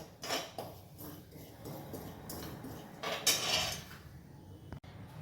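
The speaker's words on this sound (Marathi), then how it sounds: "कढईमध्ये मंद गॅसवर सगळ्यात आधी आपण ही खसखस भाजून घेतोय" Poppy seeds dry-roast in a kadhai over a low flame, with faint intermittent scraping and light clinks of a stirring spatula against the metal pan.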